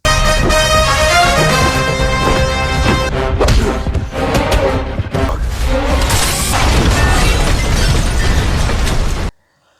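A loud, dense cinematic ambulance explosion from an Indian action film, with booming impacts and crashing debris, sustained and chaotic over a heavy music-like bed, ending abruptly.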